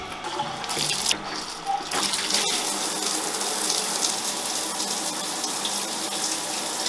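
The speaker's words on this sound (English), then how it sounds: "Maybe I'll try the shower." Shower water runs in a steady, loud hissing stream, with a few brief splashes and shifts in the flow near the start.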